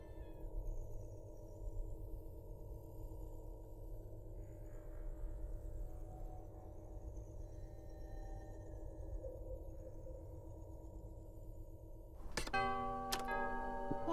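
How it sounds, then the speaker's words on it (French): A doorbell rings in the video game Lego Star Wars: The Skywalker Saga, a few bright chiming tones cutting in near the end over a steady low background hum. "Ça ressemble effectivement à une sonnette."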